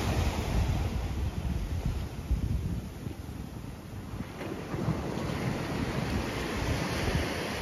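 Surf washes steadily onto a beach at Sunset Beach in Khao Lak, Thailand, a continuous broad roar of waves with wind buffeting the microphone, and no voices.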